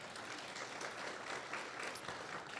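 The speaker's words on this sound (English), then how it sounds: "You can give her a round of applause" Faint, steady clapping from an audience at a panel session, a soft continuous patter across the whole short stretch.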